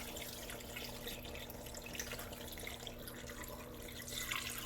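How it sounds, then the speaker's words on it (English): Water runs steadily from a tap into a kitchen pot holding a bone for posole, a continuous rushing splash that grows slightly louder toward the end. "just fill it up with some water"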